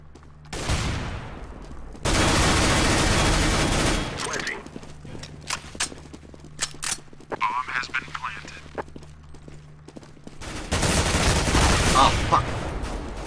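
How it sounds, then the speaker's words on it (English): Gunfire bursts and a flashbang blast in a tactical team shooter match, with loud dense volleys near the start and end and sparser scattered shots between, amid game effects. "I'm throwing a flashbang."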